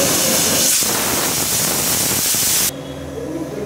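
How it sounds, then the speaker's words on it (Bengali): A pressure cooker on a stove, boiling tomato soup, lets out a loud, steady hiss of steam that stops abruptly near the end, leaving a quieter background. "এবার এটা প্রেসার কুকারে সেদ্ধ করে নেব।"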